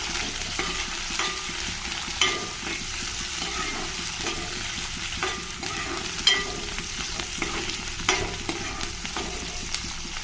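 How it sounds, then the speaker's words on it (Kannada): Chopped onion, capsicum and curry leaves fry in oil in a pan, giving a continuous close sizzle with occasional stirring scrapes and small pops throughout. "ಈರುಳ್ಳಿ ತೊಗೊಂಡಿದ್ದೀನಿ ಹಾಗೆಯೇ ಒಂದು ಕ್ಯಾಪ್ಸಿಕಮ್ಮು ಸ್ವಲ್ಪ ಕರ್ಬೇವಿನ ಸೊಪ್ಪು ಮೂರನ್ನು ಸೇರಿಸ್ತಾ ಇದ್ದೀನಿ ಇದನ್ನು ಸ್ವಲ್ಪ ಫ್ರೈ ಮಾಡ್ಕೊಳ್ತೀನಿ ಎಣ್ಣೆಯಲ್ಲಿ"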